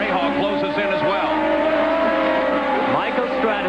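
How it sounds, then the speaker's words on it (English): IndyCar race cars at maximum revs in the 1991 Texaco/Havoline 200, engines screaming continuously with pitch sweeps as they downshift, loud and close, with a commentator talking over them throughout. "Up at maximum revs now, Alonzer Jr. begins to slam it down through the gears"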